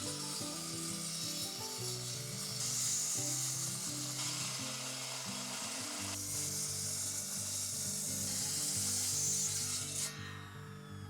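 A handsaw cuts through wood from trees on the property while a wood shed is being built, making continuous rasping strokes at a moderate, fairly quiet level that fade near the end.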